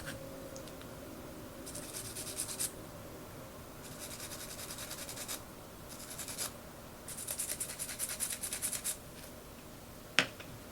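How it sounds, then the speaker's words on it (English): Nylon brush scrubbing the edges of an Anschütz rifle magazine, heard as several bursts of quiet bristly scratching separated by pauses, with a sharp tap near the end. "take your nylon brush and begin scrubbing on the edges"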